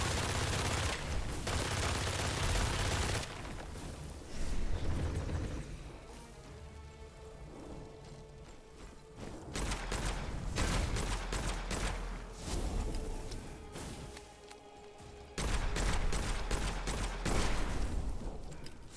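Video game gunfire in long, dense sustained bursts separated by short quieter gaps, loud and close, like continuous automatic fire with no talking.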